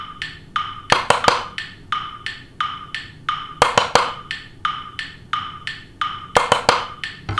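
A slowed metronome ticks steadily for a Wind Waker HD pause-buffering routine, with sharp clusters of controller button clicks landing between the beats in a repeating pattern, close and clear.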